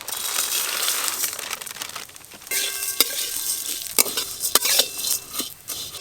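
Vermicelli frying in ghee for payesh, a crackling, rustling sizzle as the dry strands are stirred, with sharp clinks of a utensil against the pan and a faint tonal hum in the background.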